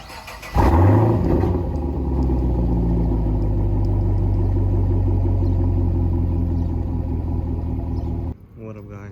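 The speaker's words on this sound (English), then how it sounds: "I'm gonna do a little cold start so you can hear how it sounds with the muffler delete." A 2015 Camaro SS with a muffler delete fires up from cold, a sharp starter catch then a loud, deep, steady V8 idle rumble held close for several seconds before dropping off near the end.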